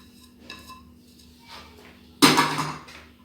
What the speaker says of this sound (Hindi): ये हम एक पैन में डाल रहे हैं